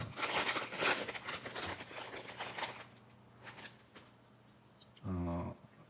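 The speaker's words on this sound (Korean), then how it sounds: "비닐을 뜯어서" Plastic wrapping around Faber-Castell paper blending stumps is torn open in a quick burst of crinkling and ripping, then falls to scattered rustles, with a brief voice near the end.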